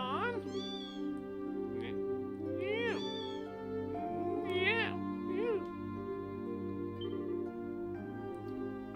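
Kittens in the Trails in the Sky SC video game mew repeatedly in high, wavering cries, several distinct calls rising and falling over a steady droning music bed.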